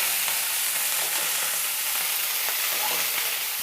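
Cauliflower fried in a pan, loud and close; a dense, unbroken sizzle fills the whole stretch, with faint stirring movements underneath.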